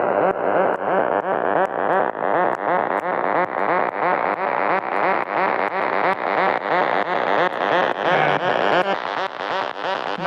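A synth patch with altered reverb plays a rapid, steady pulsing sequence of bright buzzy notes that slowly rises in brightness, loud and continuous with no talk.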